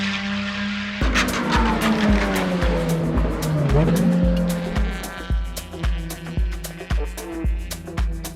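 A K24-engined Ferrari race car on track at a time-attack event, its engine note rising and falling through shifts with brief tire squeal, close and loud, followed by a regular pulsing rhythm as the car runs on.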